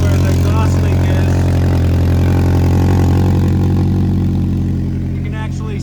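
A car's engine with an exhaust leak at an unbolted, roll-pinned joint drones loudly and steadily at idle, a pulsing rumble close by that eases slightly toward the end, with faint talk underneath.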